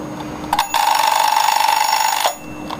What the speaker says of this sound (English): And the bell works on it too.